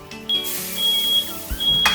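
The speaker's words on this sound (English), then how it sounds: "the smoke alarm went off." A high electronic alarm tone sounds in short repeated beeps over a busy background hum, loud and nearby.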